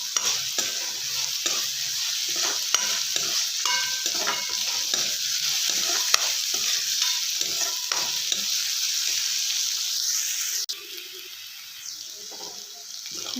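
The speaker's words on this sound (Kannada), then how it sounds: "ಸ್ವಲ್ಪ ಕಡಲೆಬೇಳೆ ಚೆನ್ನಾಗಿ ಹುರಿಲಿ." Chana dal stir-fries in a pan over a medium flame for cabbage palya, giving a continuous sizzle broken by repeated scraping stirs, close up, before the sizzle drops away near the end.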